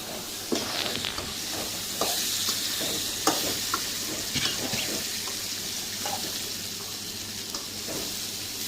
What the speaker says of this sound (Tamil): ஒரு 5 நிமிஷம் அடுப்பில் வச்சு கிண்டணும்.